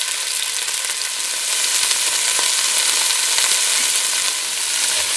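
Loud, dense sizzle of beef frying in batches in olive oil in a hot pan for a French beef casserole, a continuous crackle with no voices.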